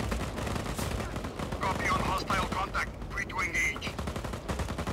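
Gunfire from enemies in the video game Just Cause 4 rattles in dense continuous bursts throughout, with a few sharper shots partway through over a busy game mix.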